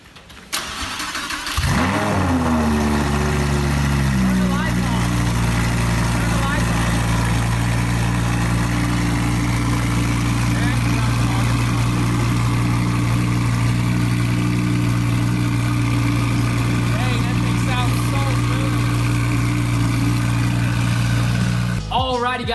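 A rebuilt, previously wrecked Lamborghini Huracan fitted with a new exhaust fires up with a sharp start and then idles steadily, a loud, close, deep rumble holding for about twenty seconds with faint background voices.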